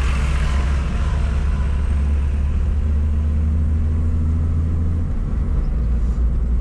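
A Farmtrac Champion tractor, nine years in service, drives along a road near a toll, its engine a steady low rumble with droning hum, loud and close throughout, no talking.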